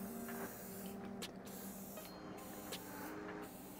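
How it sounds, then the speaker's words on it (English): Gloss white spray paint misted from an aerosol can onto a resin print, a steady close hiss running throughout with a few brief bursts and breaks in the spray. "I'm literally going to spray white all over all of the white parts"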